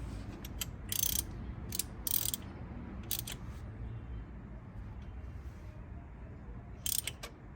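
A ratchet tightens the valve cover bolts on a 2001 Toyota Camry during a gasket and spark plug job, giving several short bursts of quick clicking spread across a steady low background hum.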